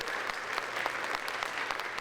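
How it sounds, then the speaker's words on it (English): Audience applause at an early childhood education apprenticeship recognition night, a modest, fairly distant patter of clapping with a few distinct claps standing out. "So a round of applause, please."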